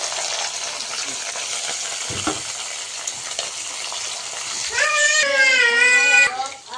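Tomatoes with plenty of green chilli and onion fry in a pan with a steady, dense sizzle up close. A short, rising tonal voice-like sound appears near the end.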